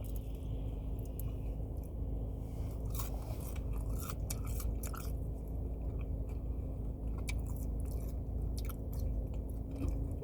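Someone chews fried food from Mr. Hero's, fried pickles with cheese sauce, close to the mic, with soft crunching and squishy bites repeating over a steady background hum, with no talk.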